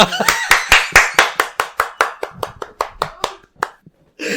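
A small group claps in a quick, slightly uneven burst of about a dozen sharp hand claps that thin out and fade, with a short stir of sound at the very end.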